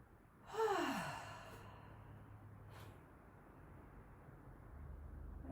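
A single slow exhale during a yoga stretch, rising near the start and then trailing off into quiet room tone, faint and close, with no talking over it.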